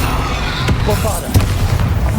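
A Bombarda explosion spell goes off in the Hogwarts Legacy video game, a dull booming burst amid continuous game noise with a second thump shortly after, both fairly loud and close.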